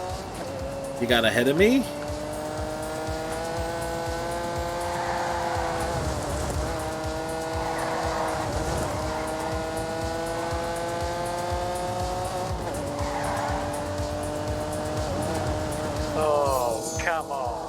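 A race car at full throttle climbs through the gears, its engine note rising in repeated revving sweeps with brief tire squeal, loud and close, while people shout and talk over it.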